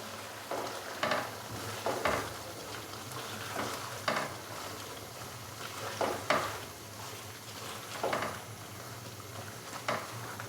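Green chillies being stirred into butter in a karahi, a soft sizzle running throughout with a regular series of scraping stirs every second or two, fairly faint and close.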